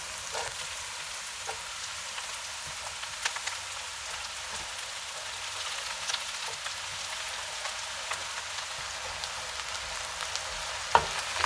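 Eggplant and peppers fry steadily in olive oil on medium-high heat for Sicilian caponata, making a soft, continuous sizzle with faint crackles and an occasional utensil tap, fairly quiet and with no talking.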